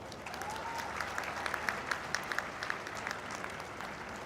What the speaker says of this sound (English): We must all give the graduating classes a big round of applause.